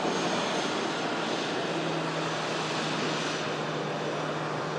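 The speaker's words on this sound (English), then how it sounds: "In from Amsterdam is this EasyJet A320." An EasyJet Airbus A320 arrives from Amsterdam, its engines giving a continuous, even roar with a low droning hum that settles in partway through, heard alone with no talk.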